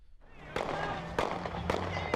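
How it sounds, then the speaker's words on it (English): Several sharp, loud bangs ring out about half a second apart, like gunshots echoing down a street over a steady background hum. "You can hear gunfire ringing out."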